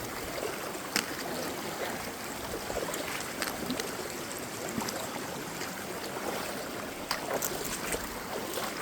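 Stream water rushes and trickles steadily during a creek crossing on a hike, a constant broadband wash with a few splashes, with no talking.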